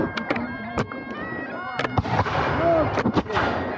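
Reenactors fire muskets at a re-enactment of the Revolutionary War Battle of Eutaw Springs, with several sharp cracks in irregular succession, some close and loud, others distant, while people shout commands.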